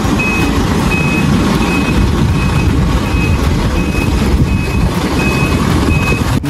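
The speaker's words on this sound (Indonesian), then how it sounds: "lihat teman-teman, yang ini ada mobil tangki" A toy tanker truck sounds a steady, evenly repeating electronic reversing beep over a loud, constant motor-like electronic engine rumble. The sound is close and continuous throughout, with no voices.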